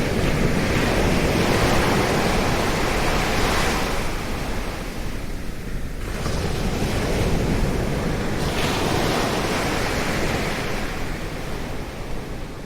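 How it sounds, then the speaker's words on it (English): Sea waves roll onto a beach in Shetland, a loud continuous wash of surf that swells and ebbs in slow surges, mixed with wind and no voices. "walking along a beach with the sea on both sides"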